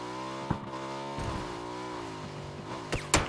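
A motorbike in a PUBG esports match revving steadily with a sustained engine drone, gunshot-like cracks popping near the start and again at the end.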